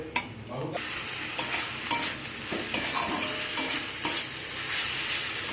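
Spiced masala with a splash of water being stirred and fried in a pan for a fish roe curry, with steady sizzling under repeated scraping strokes of a spoon, close and fairly loud.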